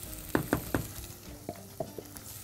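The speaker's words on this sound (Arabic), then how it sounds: "هحط مع السمنه البلدي البصل ده اللي هنعمل بيها الحشو" Onion with garlic frying in ghee in a pot, a low sizzle with a few quick clattering spoon strokes at first and then scattered knocks as it is stirred, close up and without speech.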